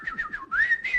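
A person whistles to imitate birds in a forest. The short, bright, warbling whistle has quick chirping pulses followed by a rising, sustained note, close and clear, with no talk.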